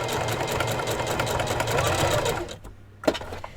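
A sewing machine runs steadily, stitching fabric for a Barbie doll dress, its motor whirring for about two and a half seconds before it stops, leaving a brief quiet gap and a small clunk.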